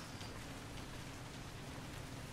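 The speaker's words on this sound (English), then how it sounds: "Here comes the rain." Steady, dense rain hisses evenly throughout a rainy scene in the video game Resident Evil Revelations 2, with no voices.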